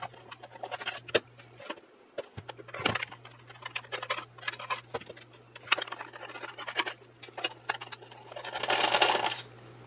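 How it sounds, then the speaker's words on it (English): Four screws taken out of the bottom of an Eachine EV800D headset, heard as small close ticks, scratches and plastic handling clatter in quiet surroundings, ending with a louder rustle. "let's go ahead and get these 4 screws out of the bottom"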